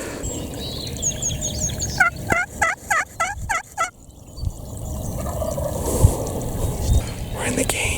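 A wild turkey tom gobbles from up a hill, a rapid rattling burst of several throaty notes, moderately distant, within outdoor woodland ambience, with faint rustling afterward.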